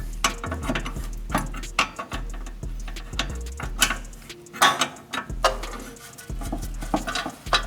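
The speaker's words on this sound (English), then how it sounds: "So we'll use the 17 to take the hose off." A 17 mm wrench working a hose fitting on a fuel-injected VW Bug engine with A/C, making close, irregular metallic clicks and taps with short pauses in between.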